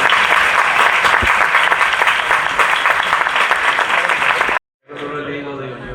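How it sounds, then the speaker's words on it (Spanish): Loud, dense audience applause in a university faculty hall at a film preview event, sustained and even before cutting off abruptly, followed by a brief quieter stretch of clapping and voices. "Un fuerte aplauso para"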